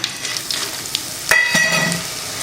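Sesame oil sizzles and crackles steadily in a pan, with a sudden burst of frying as dried berries drop in and light stirring clinks.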